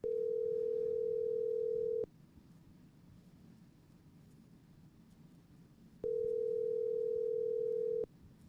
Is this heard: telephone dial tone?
yes